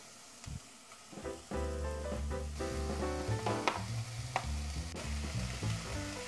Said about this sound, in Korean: 센 불에다가 바로바로 볶아주겠습니다